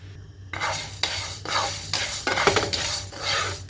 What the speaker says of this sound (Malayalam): നമ്മൾ അരി ഇട്ട് കൊടുത്തൊന്ന് വറുത്തെടുക്കാം